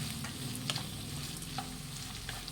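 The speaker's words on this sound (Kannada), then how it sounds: "ಈ ಕರಿಬೇವಿನ ಸೊಪ್ಪು, ಈರುಳ್ಳಿ ಚೆನ್ನಾಗಿ ಫ್ರೈ ಮಾಡಬೇಕು ಫ್ರೆಂಡ್ಸ್ ಎಣ್ಣೆಯಲ್ಲಿ" Green chillies, curry leaves and onion frying in oil for bansi rava vegetable upma, a close, continuous soft sizzle with a few faint scraping ticks and no talk.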